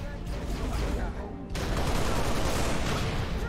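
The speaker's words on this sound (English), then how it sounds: "We've got phantom fire." Rapid bursts of Phantom dropship fire in Halo Reach crackle in a sustained fusillade that swells louder halfway through, dense and continuous against game noise.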